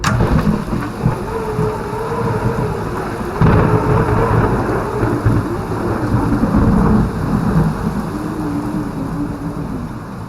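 Heavy thunderstorm at night with steady rain and gusting wind, thunder rumbling low and continuously and swelling into a louder roll partway through; no voices.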